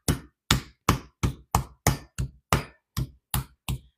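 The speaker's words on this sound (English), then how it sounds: "So you've got to hammer it nice." Meat hammer pounding raw chicken breast flat on a board for chicken cordon bleu: eleven sharp, heavy thuds in a steady, slightly uneven rhythm about every third of a second, close and loud with no talk.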